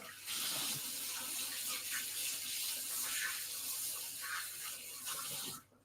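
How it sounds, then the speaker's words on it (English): Kitchen tap running steadily into a sink while hands are washed during scone making, a close continuous splashing hiss that stops abruptly at the end. "I'm just going to wash my hands again."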